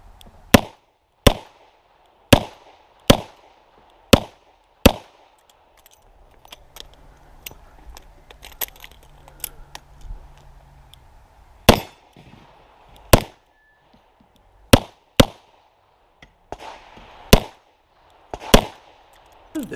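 Sharp revolver shots ring out one after another at an IDPA pistol match stage, each crack followed by a metallic ping off steel targets, spaced in bursts with a quiet pause in the middle.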